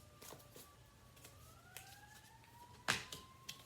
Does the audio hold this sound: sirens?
yes